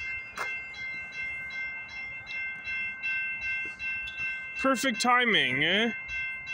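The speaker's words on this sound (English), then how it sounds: "Alright, we got a CPKC eastbound train coming down the line." A CPKC eastbound freight train passes at Guelph Line before dawn, a steady rolling drone topped by a long wavering horn blast near the end, with brief speech over it.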